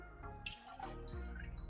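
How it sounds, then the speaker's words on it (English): Melted ice water drains from a mixing container while making a chocolate milkshake at home, giving a soft, steady trickle with scattered drips, quiet and close. "So I'm actually going to drain the water from here"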